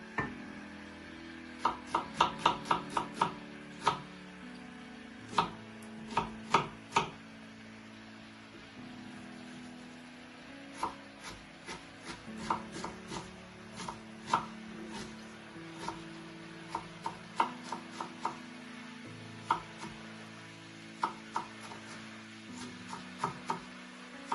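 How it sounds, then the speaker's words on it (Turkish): A knife cuts the stems off peppers on a board, with repeated sharp chops in irregular bursts, close and clear, over faint steady background hum and no talk. "biberlerimizin saplarını kesip içindeki çekirdekleri ile arındırıyoruz"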